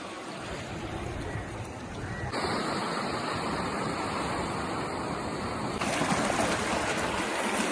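Sea waves wash continuously onto a beach at Ratnagiri on the Konkan coast. The steady, broad surf roar swells louder partway through and again near the end, with no voices.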